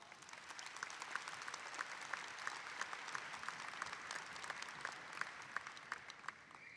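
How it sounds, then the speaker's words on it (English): At a university commencement ceremony, a large audience applauds in a steady, even wash of clapping that sounds distant and fairly faint, with a few sharper nearby claps. "Would you please give them a round of applause?"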